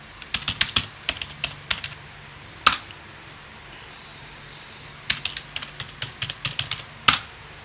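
Login details are typed on a computer keyboard, with two quick bursts of close, crisp keystrokes separated by a pause, each burst ending in a heavier key press, over a quiet background.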